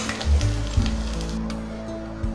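Horse gram and spices roasting dry in a pan on the stove, giving a steady close sizzle with a few louder crackles and stirring scrapes, heard alone.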